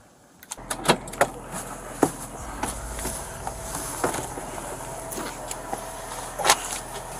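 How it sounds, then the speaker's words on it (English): Car power windows whir during a police traffic stop, with soft motor hums and a few sharp door and interior clicks standing out against a quiet cabin background. "You can roll up your car windows."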